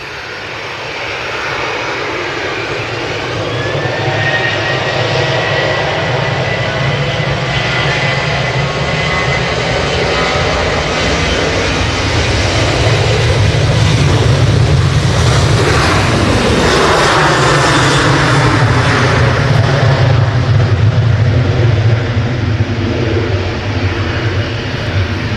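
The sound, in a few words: Ryanair Boeing 737 jet taking off, operated by Malta Air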